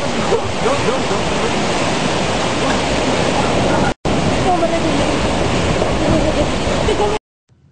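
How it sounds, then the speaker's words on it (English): Tsunami waves approaching a coast make a loud, dense roar of rushing water and surf that fills the scene, cutting off abruptly for a moment midway before resuming and then stopping. "The waves, known as tsunami, can move at up to 400 miles an hour."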